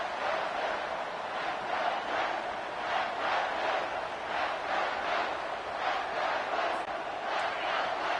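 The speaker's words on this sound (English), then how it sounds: "Listen to the crowd energy here in the early going." A packed stadium crowd roars continuously in the College Football 25 video game, a dense, steady wall of cheering and chanting for the Michigan Wolverines that pulses gently without pause.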